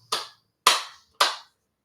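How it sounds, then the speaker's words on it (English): Three sharp, evenly spaced hand claps, close and loud, each ringing out briefly before the next, with silence between them and no talk. "we got to clap it up for Arion Carter"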